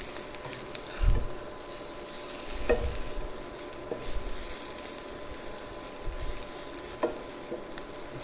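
Capsicum, onion and chili sautéing in a pan give a steady loud sizzle with stirring scrapes and a few sharp clinks of the utensil against the pan.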